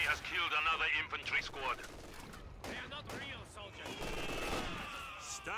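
Scattered gunfire and machine-gun bursts in Company of Heroes 2 on the Stalingrad battlefield, fairly quiet and distant, beneath frequent in-game voices shouting orders.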